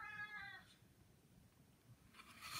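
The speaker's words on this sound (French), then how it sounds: "vous entendez mon chat, il veut sortir" A domestic cat wanting to go outside meows in a quiet room, with one drawn-out, wavering call at the start and another rising cry near the end. The cat sounds close but faint.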